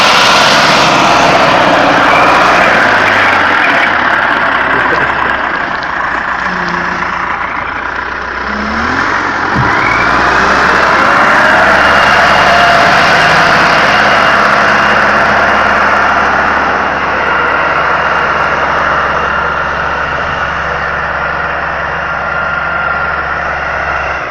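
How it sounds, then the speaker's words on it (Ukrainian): A TO-30 loader engine runs loudly and steadily while clearing snow, a continuous mechanical roar with shifting tones as it works, close by and without speech. "ТО-30 завели, зараз почистимо сніг в очередний раз."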